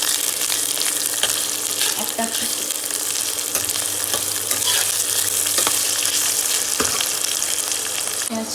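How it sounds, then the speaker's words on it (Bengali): Chopped onions fry lightly in a pan for dalia khichdi, giving a steady, close sizzle with occasional stirring clatter, while a voice speaks briefly and faintly over it. "পেঁয়াজটা আমরা প্রথমে হালকা ভাজা ভাজা করে দেবো"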